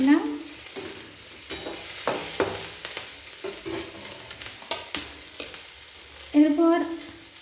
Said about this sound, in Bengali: কাঁচা লঙ্কা কুচি দিয়ে দেব, তেলে নাড়াচাড়া করে নিলাম